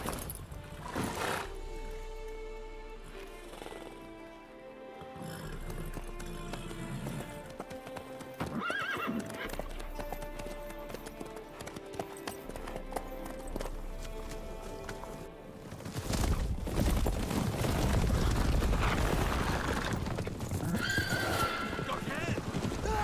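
A horse in The Witcher 3: Wild Hunt, with steady rhythmic hoof clip-clops on a path and a whinny, mixed with game music and people talking in dialogue, the hoofbeats growing louder and denser near the end.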